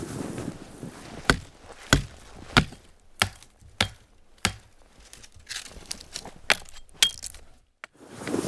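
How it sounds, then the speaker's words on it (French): A small maple sapling is chopped in the woods for a hare snare: a series of sharp, loud blade strikes about every half-second to second, close and alone with no talk. "je vais me couper une longueur que j'ai besoin pour mon piège"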